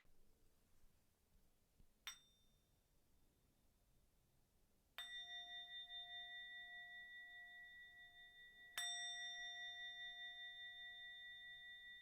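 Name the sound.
meditation bell ringing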